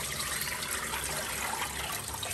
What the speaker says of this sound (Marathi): आता आधी पाणी झारून घ्यायचं